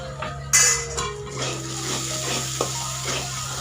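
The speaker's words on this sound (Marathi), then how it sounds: "मस्त या मसाल्याला तेल सुटेपर्यंत, याचा कच्चेपणा जाईपर्यंत आपल्याला मीडियम गॅसवरती फ्राय करून घ्यायचं आहे" Masala frying in oil in a pan over a medium gas flame for bitter gourd curry, a steady close sizzle with stirring scrapes and a few utensil clinks, and no talk.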